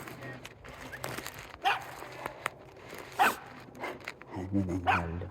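A dog barks a few times somewhere in a forest, the short sharp barks spread out over a soft background hush, with a voice speaking near the end.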